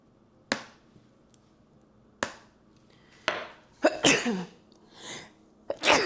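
Several sharp sneezes, spaced apart, loud and close, followed by a short burst of breathy vocal sounds.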